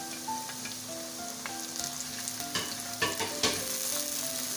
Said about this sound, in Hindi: अब इसके अंदर हम ये अपना अदरक लहसुन का पेस्ट ऐड कर देंगे।